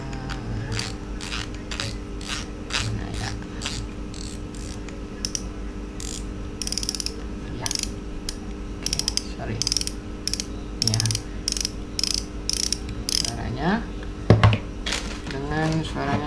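Drag on a Shimano Vanford C2000SHG spinning reel clicks in fast, steady bursts of ratcheting ticks with a round, deep tone, running close and clear over a low background hum.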